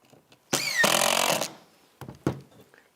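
A power tool, probably a cordless drill or driver, runs in a loud burst of about one second while driving screws into a Lazy Susan cabinet spinner wheel, followed by two shorter spurts, in a quiet workshop.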